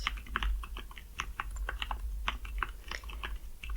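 A computer keyboard is typed on at close range, with quick irregular clusters of crisp key clicks and taps running throughout over a low steady hum, without any talking.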